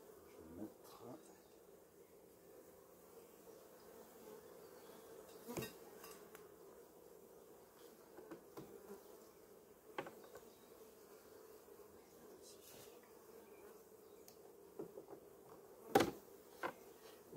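A low, steady hum of honeybees buzzing continues throughout as a swarm is transferred into a hive, with occasional clicks and knocks nearby.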